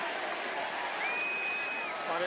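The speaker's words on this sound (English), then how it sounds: "Crowd chanting for AJ." A wrestling arena crowd at a WWE Elimination Chamber event chants for AJ, a loud steady roar of massed voices throughout, with a rising pitched cry standing out partway.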